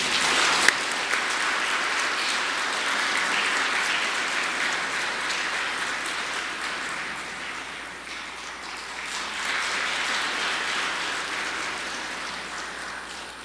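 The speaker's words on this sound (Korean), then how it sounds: "남현 엠마 수녀님을 큰 박수로 맞이하시겠습니다" An audience gives a sustained round of applause to welcome a Catholic nun lecturer at an Advent talk, dense and steady throughout, dipping slightly partway before swelling again.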